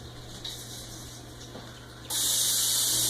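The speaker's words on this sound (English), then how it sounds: "And I'm going to spray my muffin tins." A can of cooking spray sprays muffin tins in a sudden loud, steady hiss after a quiet stretch of room noise, close up.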